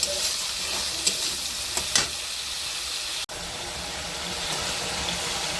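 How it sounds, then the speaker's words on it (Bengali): Spice paste fries and is stirred in hot oil, giving a steady close sizzle with a few scraping knocks of the spoon against the pan and one brief dropout midway; no one talks. "মশলাটাকে এখন ভালোভাবে কষিয়ে নিচ্ছি"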